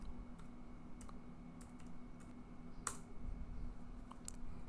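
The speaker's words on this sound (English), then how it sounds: "Open your browser, type download Python." Scattered soft clicks of keys on a computer keyboard, with a few keystrokes spread irregularly and one slightly louder tap, quiet and close against a low steady hum.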